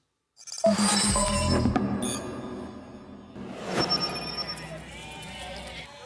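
Goats bleat in Ethiopia, a loud nearby cry followed by more wavering calls, with faint background sounds and no speech.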